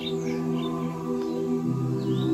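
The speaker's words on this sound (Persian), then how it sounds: "صدای پرندگان" Morning birdsong outside a family home, with faint, scattered chirps and short tweets over a low steady background hum.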